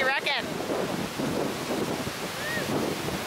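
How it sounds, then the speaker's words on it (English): Strong wind roars across a beach beside the surf, a loud continuous rush with buffeting gusts and brief high squeaky sounds at the start and near the end. "It's a wee bit windy out here."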